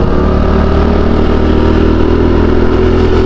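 Honda Pop 110 motorcycle with a strange noise and a bent wheel, its engine running continuously with a loud, close, steady thrumming drone.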